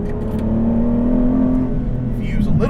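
An Aston Martin V12 Vantage S with a large-displacement V12 and manual gearbox, its engine droning steadily from inside the car with a slight rise in pitch, and a voice talking over it.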